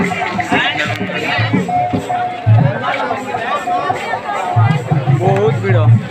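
A dense crowd chatters and calls out loudly at an Indra Puja procession in Bundhubahal, a steady babble of many voices with occasional low thumps and nearer shouts throughout.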